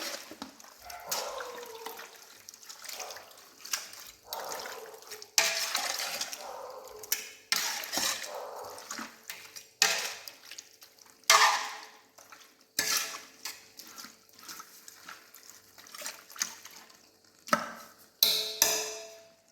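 Chicken masala being stirred and mixed in a large pot for a big batch of chicken kurma, with repeated scraping and clanking strokes of a spoon against metal at an irregular rhythm, close and moderately loud.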